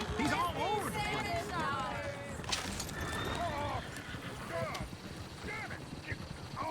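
Horse neighing and whinnying over clip-clopping hooves in the Red Dead Redemption 2 video game, several loud whinnies close by with a steady hoof rhythm and people talking over it.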